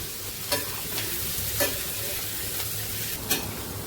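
Brinjal and drumstick curry sautéing in a pan on low heat, giving a soft steady sizzle with a few spoon scrapes and stirring knocks at intervals, no talking.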